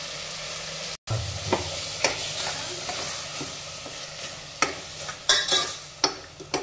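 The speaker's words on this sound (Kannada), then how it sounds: "ಈಗ ಇದಕ್ಕೆ ಮಿಕ್ಸಿ ಮಾಡ್ಕೊಂಡಿರೋಂಥ ಕೊಬ್ಬರಿ, ಬೆಳ್ಳುಳ್ಳಿ, ಶುಂಠಿ ಪೇಸ್ಟ್ ಮಿಕ್ಸ್ ಮಾಡ್ತಾಯಿದ್ದೀನಿ." A spoon stirs and scrapes through a thick coconut, garlic and ginger paste in a pan, with a low sizzle underneath and sharper scrapes toward the end.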